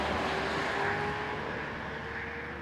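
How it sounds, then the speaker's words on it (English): A motorbike of around 600 cc roars past at a distance, its engine note steady and then shifting through quick gear changes as it fades away. "Is that a bike that's quick? That's pretty quick gear changes."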